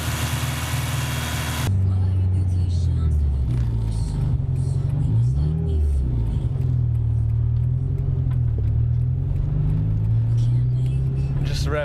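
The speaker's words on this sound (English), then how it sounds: "Just rev it up and shift into third or fourth." Loud, close engine of a Renault Clio 172 RS fitted with an RS2 clone intake, heard from inside as it drones and rises and falls in pitch through revs over steady road rumble.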